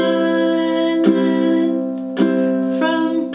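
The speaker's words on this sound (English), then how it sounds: "We're going to do a down strum on every beat, play the chord changes, and sing through the song." Ukulele strummed slowly with a single down strum on each beat, sustained chord ringing between three or four clear strokes, close and fairly loud with no voice.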